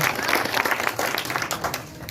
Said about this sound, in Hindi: भाई जोरदार तालियों से स्वागत किया जाए कुलदीप प्रधान जी का।